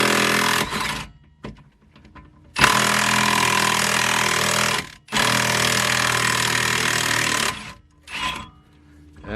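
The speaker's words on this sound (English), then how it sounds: "You wanna run the impact?" Impact wrench rattling off a rear trailing arm ball joint on a BMW E36 drift car, with two long, loud hammering bursts after a few brief blips, separated by short pauses.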